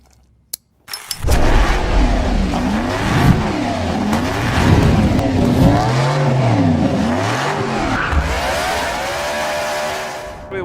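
A rebuilt Studebaker 215 engine, remade to original drawings, starts after a sharp click and runs loud and close, its pitch rising and falling in repeated revs for about ten seconds with no talking.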